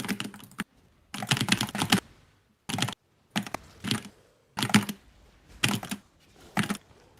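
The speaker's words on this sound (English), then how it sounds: "You can hear your keyboard." A computer keyboard clatters under fast typing during a Path of Exile gaming session, heard in repeated dense bursts of key clicks with short pauses between, close and fairly loud.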